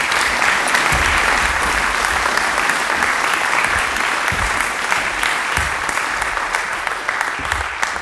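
Sustained audience applause welcoming Tony McAvoy SC at the Mullenjaiwakka (Lloyd McDermott) Oration, steady and dense clapping from a large crowd filling the hall throughout without pause.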